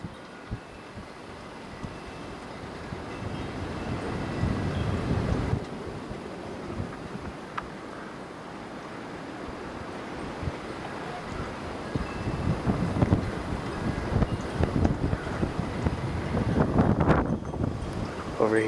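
Cold wind gusting through trees outdoors after a snowstorm, a continuous rushing roar with microphone buffeting that rises and falls in surges over nearly twenty seconds, no speech.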